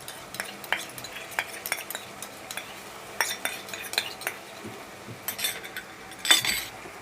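Ginger garlic paste and onions fry in oil in a pan for pav bhaji, with a low sizzle under repeated sharp spatula scrapes and metallic clinks, ending on a louder scraping burst.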